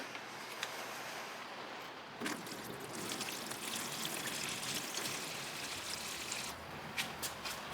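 Vinegar pouring over hand-forged knife blades made from coil springs, a steady trickling stream of liquid running for several seconds with brief splashy bursts, fairly close and continuous with no talk.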